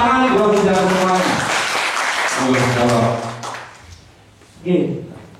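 Audience applause at a gathering of artists swells loudly, holds for about three seconds, then fades out, followed by a brief burst of other sound.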